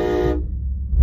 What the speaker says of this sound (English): That's the train horn.